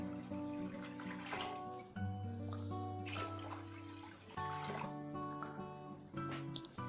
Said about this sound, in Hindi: तो मैं 3 मग पानी के इसमें डाल रहा हूँ।